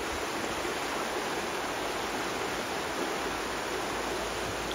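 Water from a stream or waterfall in Vermont rushes in a constant, dense broadband roar, steady and fairly close throughout with no pauses.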